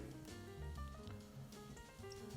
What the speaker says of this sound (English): we're just going to drop our eggplant in here. We're going to let those fry